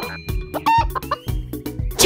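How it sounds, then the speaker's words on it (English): A chicken in the Swahili children's cartoon Akili and Me clucks in a quick series of short, close calls over a light animated soundtrack. "Yes, chicken!"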